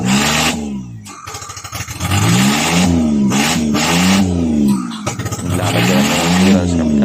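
A Suzuki Multicab's small F6A 12-valve engine, just back from a top overhaul, revs hard in repeated rising and falling bursts, loud and close, with a brief dip between surges.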